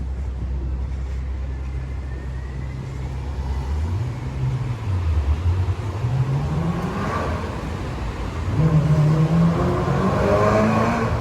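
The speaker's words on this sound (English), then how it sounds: "that was the red Ferrari that just went by again" A red Ferrari passes on a Frankfurt city street, its engine note rising and falling as it approaches and goes by, loud over steady traffic rumble, with a second surge of revving near the end.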